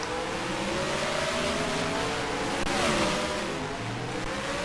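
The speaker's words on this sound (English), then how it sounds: "Cars are coming out pit road now." Race cars pull out of pit road at Atlanta in a steady, dense wash of engine roar, with rising and falling engine tones from several cars close by.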